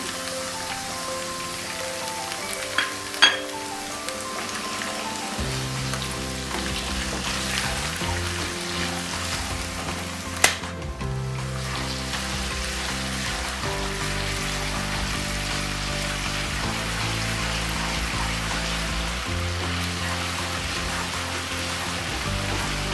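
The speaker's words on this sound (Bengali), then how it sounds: "আদা রসুন এবং পেঁয়াজ বাটা বেশ ভাজা ভাজা হয়ে গিয়েছে" Ginger, garlic and onion paste frying in a pan, a continuous rain-like sizzle and crackle held evenly throughout, with a few sharp taps and faint tones underneath.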